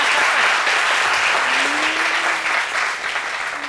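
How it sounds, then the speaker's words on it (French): Dense, steady audience applause fills the room at full volume throughout, with a faint voice briefly audible underneath midway. "Pourquoi les applaudissements sont si timides"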